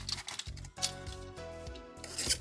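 Brittle points being trimmed off a modular adobe stucco stair model with a hand tool: repeated short rasping scrapes in uneven bursts, close and fairly clear, with no talk.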